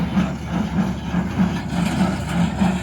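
A tractor engine runs steadily while baling thick first-cut hay in big windrows, a low rumbling drone with a rhythmic pulsing thump close by.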